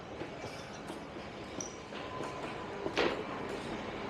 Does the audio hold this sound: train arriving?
yes